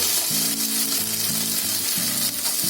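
Onion frying with cumin and ginger-garlic paste in a pan, a loud steady close sizzle over a low repeating hum in the background, with no talking.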